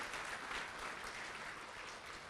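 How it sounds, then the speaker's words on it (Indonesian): Applause from an audience after a speech, steady clapping throughout, moderately distant and soft. "Tepuk tangan untuk Ibu Novi."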